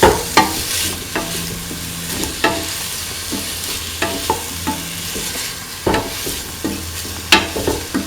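A spoon repeatedly scrapes and stirs a tofu, potato and coconut milk stew in a pan, giving close rhythmic clacks every second or so over a soft background sizzle.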